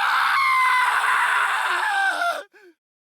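A single drawn-out human scream of anguish, loud and close, holding steady for over two seconds before breaking off into a short strained whimper and silence.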